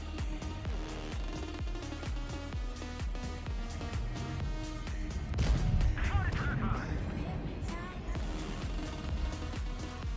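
Tank cannons boom in a World of Tanks Blitz tournament match, heavy shots landing at a steady irregular pace with louder blasts near the middle, under ongoing commentary.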